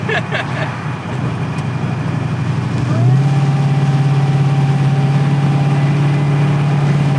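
A 1962 Chevrolet Impala with a 1,000+ hp engine, riding on air bags and 24-inch wheels, drones steadily from inside the cabin while cruising, its low engine tone rising in pitch and then holding loud and even.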